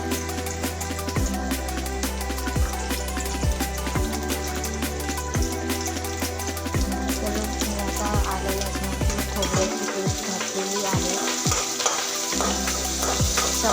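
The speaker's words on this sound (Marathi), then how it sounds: "मी आता आलं लसणाची व खोबऱ्याची पेस्ट घालते" Ginger-garlic and coconut paste frying with browned onion in a pan for an aloo palak dish, a steady loud sizzle with stirring scrapes, with low rhythmic music pulses running underneath.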